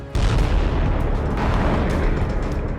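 Drone strike explosion at a Russian airbase, a heavy, sustained roaring blast that starts abruptly and stays loud and rumbling throughout.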